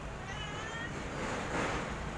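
A mother cat meows briefly and faintly outdoors, a thin drawn-out cry early on, nearly buried under a loud, steady wash of background noise.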